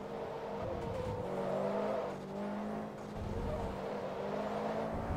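A 1969 Camaro SS race car engine in Forza Motorsport 2, droning steadily at a sustained pitch with slight rises and dips, heard alone without speech.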